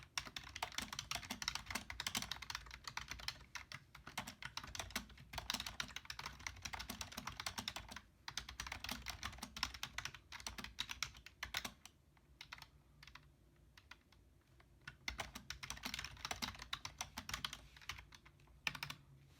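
Rapid, continuous typing on a large Bluetooth keyboard paired with a Palma screen, close and crisp, with brief pauses between bursts of keystrokes and no voices.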